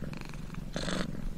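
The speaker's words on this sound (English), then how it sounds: "Cats purr throughout their lives, and often at times when you wouldn't expect" A cat purrs close up with a steady low rumbling vibration, its rhythm rising slightly in the middle of the short stretch, with no talking.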